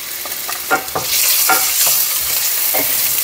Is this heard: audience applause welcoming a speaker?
no